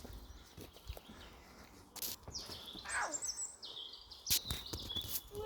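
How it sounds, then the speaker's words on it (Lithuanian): Wild birds sing outdoors in a quiet natural setting at Easter, giving scattered bright chirps and short tweeting phrases at moderate distance, with occasional rustling and footsteps in between. "Pasiklausykime paukščių."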